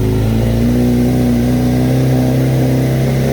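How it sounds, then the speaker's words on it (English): Kawasaki Z900RS motorcycle fitted with a decat link pipe, revving hard from a cold start; a loud, steady, close-up engine drone with sustained throttle and no talk. "redline it from a cold start"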